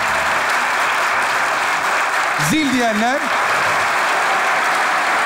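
Studio audience applause at a Turkish comedy sketch show, steady dense clapping throughout, with a brief spoken voice rising over it midway.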